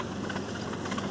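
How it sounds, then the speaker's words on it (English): A square mower's engine drones steadily and evenly while Dave mows grass on a sports pitch, a constant mid-pitched hum with no breaks and no voices. "Dave's just using our square mower now to go over it"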